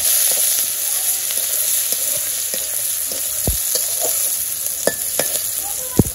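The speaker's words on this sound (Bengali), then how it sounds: "পেঁয়াজ দিয়ে দিলাম" Onions fry in a hot pan in a village kitchen, giving a constant loud sizzle broken by scattered stirring scrapes and clinks from a utensil. No one speaks.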